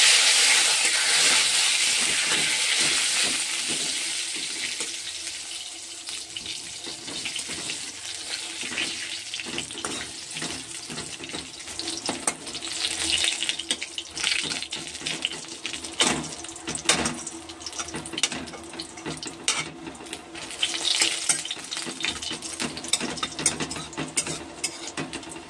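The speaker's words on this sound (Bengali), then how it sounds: "তেল দিয়েছি, মৌরি, দুটো শুকনো লঙ্কা, তেজপাতা, হিং" Fennel seeds, dried red chilies, bay leaf and asafoetida tempering in hot oil, a continuous loud sizzle and crackle that settles into steady frying, with occasional clinks and scrapes of a spatula.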